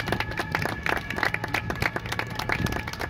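A crowd applauds after a speech at an outdoor 14 July political rally, with dense, steady clapping and scattered cheers sustained throughout, moderately close.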